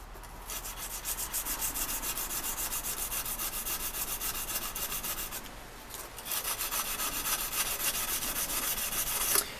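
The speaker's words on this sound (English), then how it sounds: "As I near the end of the grit that I'm using, I like to use the sandpaper dry" Dry sandpaper rasps steadily back and forth across a knife blade during hand sanding, a fast regular rubbing rhythm up close that pauses briefly and resumes slightly louder, with no speech.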